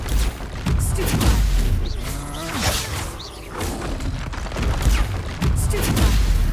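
Stupefy spells cast in the Hogwarts Legacy video game amid a busy fight, several loud whooshing blasts, thuds and impacts in quick succession with no clear talk.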